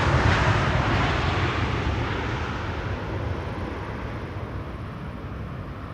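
An Emirates airliner lands with idle reverse thrust, giving a loud broad jet roar that starts strongest and slowly eases off over a few seconds, with no voices.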